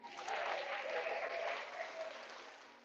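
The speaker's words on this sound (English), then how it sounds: "Let's give him a round of applause" A crowd claps in steady, dense applause, loud and continuous for about three seconds before tapering slightly at the end, with no voices.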